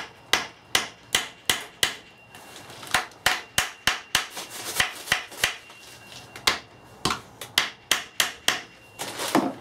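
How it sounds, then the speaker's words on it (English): Sharp, light steel-hammer taps on a VW Passat gearbox during a camper TDI engine swap, ringing out as a long series of crisp, close metallic strikes in a steady, slightly uneven rhythm with no talking. "So, we'll try a couple of sharp light taps with a steel hammer."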